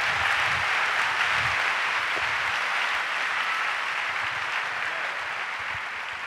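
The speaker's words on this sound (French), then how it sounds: "Clap for Jesus." Congregation at a church session clapping for Jesus: dense, sustained applause from a crowd that holds steady and eases slightly toward the end.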